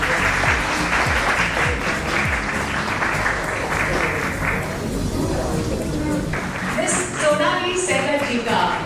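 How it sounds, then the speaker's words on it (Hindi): At an Indian wellness awards ceremony, an audience claps for an honoree, a continuous crowd patter with some louder nearby claps, a few sharp taps and faint background voices mixed in. "तो आइए जोरदार तालियों से हम ढेर सारी बधाई"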